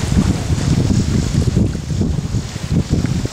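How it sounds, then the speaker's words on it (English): Strong outdoor wind of about 15-20 mph buffeting the microphone, a loud, continuous low rumble that surges and eases, with no speech. "Feels like the wind is maybe between 15 and 20 miles an hour."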